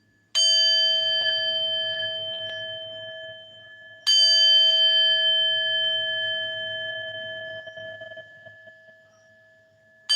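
Chimes ring out in two struck bursts, each a bright, shimmering cluster of metallic tones that slowly decays and lingers, with a steady sustained lower tone underneath; no talking.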